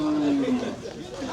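A red cow moos at a busy cattle market ahead of Qurbani, a low drawn-out call heard close by while people talk and chatter around it.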